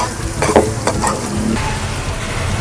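Scrambled eggs being stir-fried in a pan for egg fried rice give a loud, close, continuous sizzle, broken by several scraping stirs of the spatula.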